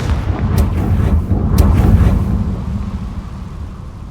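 In Hogwarts Legacy, a Confringo fire spell lets off a loud, deep, rumbling blast with a couple of sharp cracks on top, then rolls away over a few seconds.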